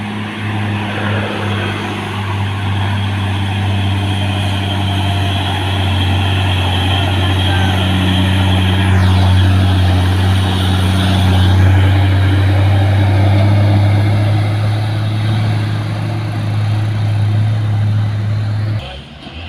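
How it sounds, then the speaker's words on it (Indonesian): A green Hino truck labours up the steep Bukit Kodok hill, its engine a loud, steady low drone that holds unbroken for the whole stretch, close by. "Satu mobil Hino warna hijau belajar naik di atas Bukit Kodok"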